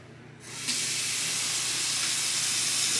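Hot water starts gushing from a tap with a steady, broad hiss that holds constant after a brief quiet moment.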